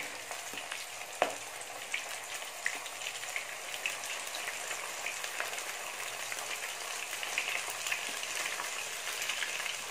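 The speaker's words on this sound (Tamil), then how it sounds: "ஒன்று ஒன்றா இதுக்குள்ளே போட்டு பொரிச்சு எடுத்துக்கலாம்." Hot oil crackles and sizzles steadily for the whole stretch, with occasional sharper pops, as pieces of chicken deep-fry close up.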